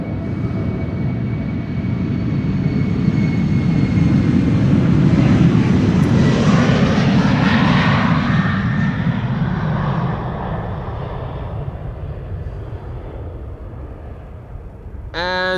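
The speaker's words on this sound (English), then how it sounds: "And this is the Embraer 190 to Bergen." An Embraer 190 jet departing Amsterdam Schiphol for Bergen builds to a loud, broad engine roar that peaks mid-takeoff and then slowly recedes, with no talk over it.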